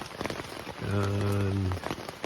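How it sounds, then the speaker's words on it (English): Rain patters densely on a tent at a trail campsite, a close, crackling spray of drops throughout, while a voice hums or speaks briefly over the middle of the downpour. "by the time we got done eating dinner, the rain was upon us"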